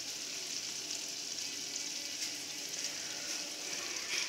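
An omelette made with testicles and parsley cooks in a pan with a soft, even, continuous sizzle that hisses steadily throughout without pause.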